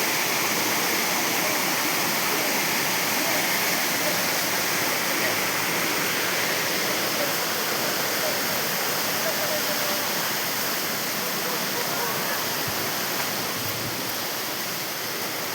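Waterfall water in Meghalaya rushing past bathing spots and stone steps, a loud, dense, unbroken roar of flowing water filling the whole stretch, with a person's voice faintly present.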